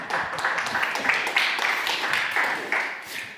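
Audience clapping at an illegal-fishing seminar as a presenter is called to the stage, a steady patter of many hands at moderate level, fading slightly toward the end.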